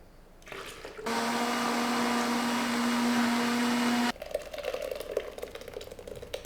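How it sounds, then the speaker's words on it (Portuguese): A blender blending corn with milk whirs loudly and steadily for about three seconds with a strong motor hum, then cuts off, leaving quieter kitchen noise. "a gente passa o milho no liquidificador junto com o leite"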